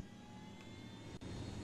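A helicopter engine in Ghost Recon Wildlands gives a loud, continuous turbine whine and roar that runs steadily throughout, with a brief dip near the end, and no talking.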